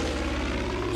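Propeller airplane engine droning in the video game Far Cry 5, a loud, steady, close buzzing hum with no talking.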